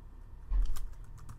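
Typing on a computer keyboard while entering a web link into a sidebar editor, a brief burst of close keystrokes clustered in the middle, alone with no talk.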